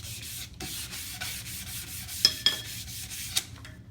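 Light sanding on a Fibrex surface before painting, a close, steady, soft abrasive rubbing in repeated back-and-forth strokes with a few sharper scrapes near the end.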